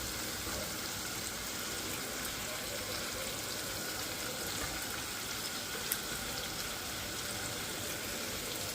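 Tandoori chicken coated in masala cooks in a covered pan on very low heat, a dense, even sizzling hiss running without a break, with one faint tick partway through.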